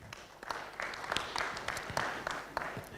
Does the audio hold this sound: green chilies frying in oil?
no